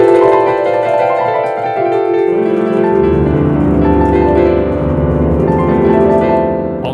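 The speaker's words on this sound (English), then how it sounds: "if I play very high APM on the virtual piano" Rapid, dense piano notes pour out in a continuous blur, a fast run of overlapping tones that shifts lower partway through, loud and without any talking.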